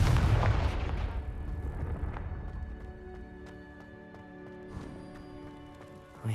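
A Confringo fire spell bursts with a loud, broad blast at the start and decays into a long rumbling tail, with later tonal magical shimmer and a small crackle near the end, in the video game Hogwarts Legacy.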